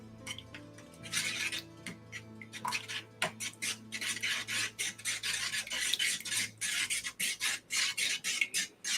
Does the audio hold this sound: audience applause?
no